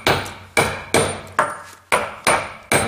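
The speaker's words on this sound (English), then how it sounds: "now, I take my hammer and a little bit movement" Hammer striking a metal hand tool, six sharp ringing blows at a steady, slightly uneven pace, loud and close, with no talking.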